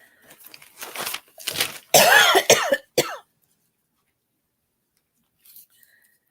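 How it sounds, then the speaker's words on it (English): Several harsh coughs and throat clearings come in a short burst up close, followed by a few seconds of silence. "Now I've got coughing."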